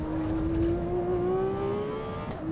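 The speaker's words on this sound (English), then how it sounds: "Oh, and the downshift as well, oh, absolutely stunning." A race car engine in the Assetto Corsa Evo sim game drones steadily, its pitch easing down and rising again briefly near the end, heard alone and fairly close.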